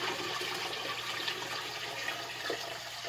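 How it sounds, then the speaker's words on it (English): Water poured from a bucket into a fish tank, a steady rushing pour that continues throughout without breaks, close and fairly loud. "I want to dump the water into the fish tank"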